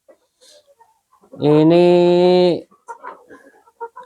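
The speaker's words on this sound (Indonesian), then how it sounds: "Nah, ini ayam-ayamnya teman." A chicken in a farm pen gives one loud, drawn-out call lasting about a second, close to the microphone, between brief bits of a man's speech.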